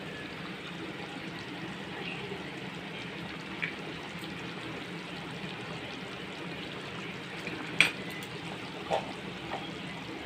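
Egg curry with green chillies simmering in a pan, a soft continuous bubbling hiss with a few faint pops and clinks.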